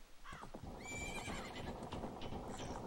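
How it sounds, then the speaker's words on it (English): A braying, whinny-like animal cry in Majora's Mask rises and wavers near the start, followed by clip-clopping hooves and a rattling cart sound at moderate loudness. "That's a donkey."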